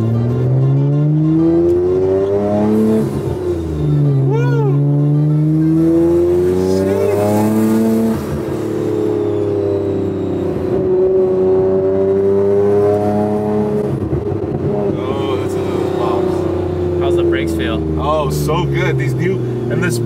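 Nissan Skyline R34 GT-R with a straight-pipe exhaust, its engine rumbling loudly and steadily at close range throughout, rising and falling slightly while people talk over it.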